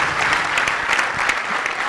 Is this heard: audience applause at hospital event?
yes